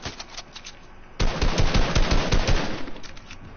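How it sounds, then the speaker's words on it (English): Video-game gunfire aimed at the player, light rapid shots at first, then a loud dense burst of automatic fire with sharp repeated cracks for a couple of seconds, no talk. "Oh god, I'm getting shot."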